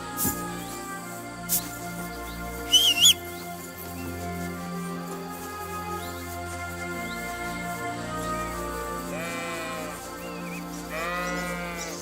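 Sheep in the medieval game Kingdom Come: Deliverance II bleat twice in short wavering calls near the end, over a steady ambient music bed with a few brief clicks earlier.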